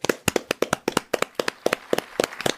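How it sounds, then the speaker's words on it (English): Applause from a theater audience at the finale of Phantom of the Opera, heard as a dozen or so sharp, evenly spaced claps, close and fairly loud, more like one or two people clapping than a large crowd. "the audience claps, gives a standing ovation"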